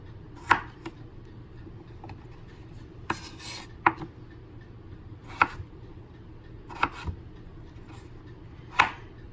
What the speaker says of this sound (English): I'm just gonna cut them into little squares